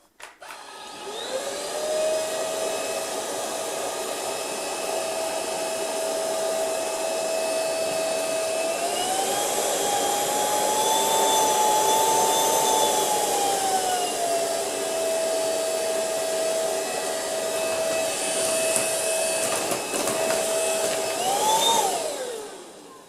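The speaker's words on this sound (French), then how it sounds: "le moteur a accéléré tout seul parce qu'il a détecté une grosse quantité de poussière" An Ultenic U10 cordless vacuum cleaner with infrared dust detection runs steadily at low speed, its motor whine rising in pitch midway as it speeds up on its own, then settling back down before a final brief surge, close and alone.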